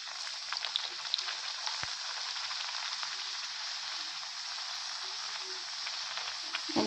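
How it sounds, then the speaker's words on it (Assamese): Puri frying in hot oil over a medium flame, a steady close sizzle with faint crackles and pops throughout, a voice speaking briefly over it. "এনেদৰে পুৰি ল'ব।"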